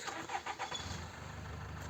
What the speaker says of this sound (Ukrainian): Мотор файно робить.